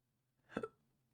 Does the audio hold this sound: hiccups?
yes